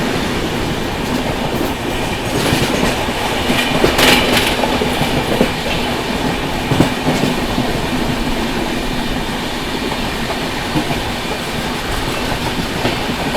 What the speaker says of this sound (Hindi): गोरखपुर बांद्रा हमसफर बहुत देर से ट्रैक कर रहे थे इसको, फाइनली यहाँ पर पैरेलल ओवरटेक